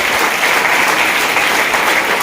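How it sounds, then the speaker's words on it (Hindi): Loud, continuous applause from a seated audience at a gathering honouring the scientists behind an Ayush asthma formula, dense clapping filling the whole stretch without pause. "जोरदार ताली हो जाए"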